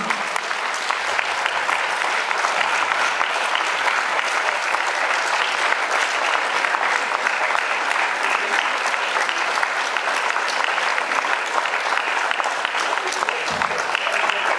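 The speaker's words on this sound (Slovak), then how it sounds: "Tak ja poprosím ešte jeden veľký potlesk pre všetkých našich pedagógov a teda časť našej zborovne." A school ball for teachers, parents and friends opens with a hall full of people giving the teachers a long, loud, steady round of applause that continues without a break.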